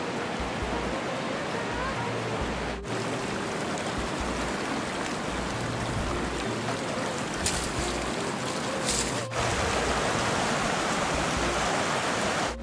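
Steady broad rush of running water splashing over a Toyota as it gets washed in a Ladakh valley, continuous and fairly close, with brief pauses and faint voices underneath.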